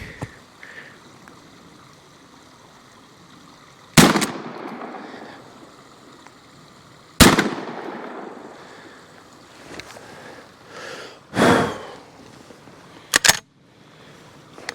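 Gunshots fired outdoors: four sharp, loud reports spaced several seconds apart, each ringing off briefly, with wind noise and quiet background between them.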